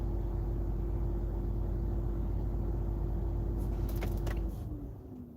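A car engine idles with a steady, heavy low rumble and an odd droning tone, then clicks and tapers off as it shuts down near the end.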